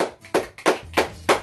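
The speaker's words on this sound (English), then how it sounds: "King, clap your hands." Four sharp, evenly spaced hand claps ring out close and loud, each a crisp burst of sound with short gaps between them and no talking.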